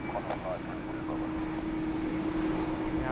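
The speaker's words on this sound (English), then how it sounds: "here's our Melbourne bound A330-300" An Airbus A330-300 airliner at Sydney Airport on a stormy day gives off a steady jet engine roar with a constant humming tone through it, while someone talks over the noise.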